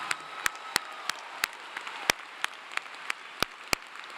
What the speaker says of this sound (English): Will you please give a big, loud round of applause to Anna Grace